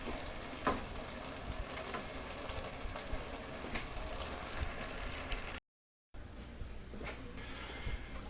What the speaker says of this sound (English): We're going to let this cook uncovered for about 3 minutes or so